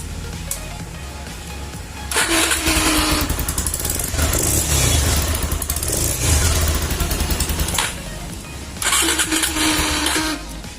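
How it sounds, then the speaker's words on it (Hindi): A Bajaj Pulsar 220 motorcycle engine cranks on its electric starter and catches, running loudly, then a pause and another starting burst near the end. "गाड़ी जो है सेल्फ से स्टार्ट हो रहा है"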